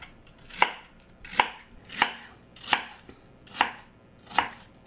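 Knife chopping peeled, pitted apples into chunks on a board, six crisp even thuds at a steady rhythm, close and alone.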